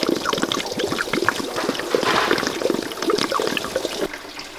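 Coolant splashes and trickles steadily from a removed water pump on a 2012 Ford Fusion, a close continuous pouring with small irregular drips that thin out near the end.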